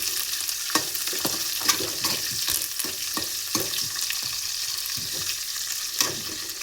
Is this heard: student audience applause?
no